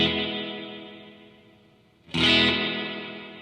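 A sustained electric guitar chord through a Destination Reverb Deluxe pedal decays into a long reverb tail, then a second strum rings out bright and washes slowly away.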